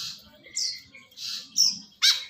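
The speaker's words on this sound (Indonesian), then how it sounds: "Burung kekek babi atau burung tetet." Woodswallow calls from a kekep babi, with male and female birds present, come as four separate high, harsh chirps spaced about half a second apart, close and fairly loud, with soft low murmuring underneath.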